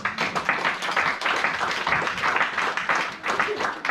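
A church congregation clapping steadily and fairly loudly through the whole stretch, mixed with voices calling out during a French-language service.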